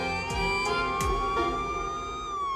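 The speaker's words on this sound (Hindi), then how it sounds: "पुलिस की गाड़ी आ गई।" A police car siren wails nearby, its pitch sweeping slowly up and down in a continuous loud tone, with a few thumps beneath it.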